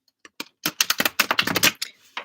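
Tarot cards being shuffled up close: a fast run of sharp riffling clicks and flutters in bursts, starting sparse, thickening through the middle, then trailing off.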